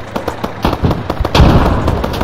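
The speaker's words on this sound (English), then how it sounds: "I hear some gunfire to the right" Gunfire in a video game, a loud irregular string of sharp shots and pops followed by a heavier rumbling blast.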